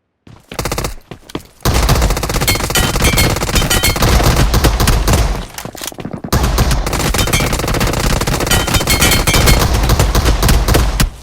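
Automatic gunfire sprays in long, loud, rapid bursts during a boss fight in the Metro Royale video game, with a brief pause early on before the shooting resumes almost continuously.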